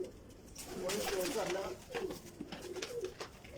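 Pigeons, including a dotted-wing hen, coo softly and repeatedly at a moderate distance, with low, rolling calls over a faint background and a voice speaking at times.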